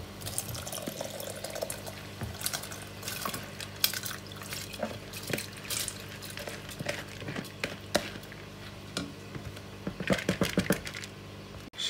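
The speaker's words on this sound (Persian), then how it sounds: "خب آب تو جوش اومد، برنج رو اضافه میکنیم." Water boiling in an Instant Pot before rice goes in: faint, irregular bubbling and small popping plinks near the pot, with occasional clinks and soft handling noises.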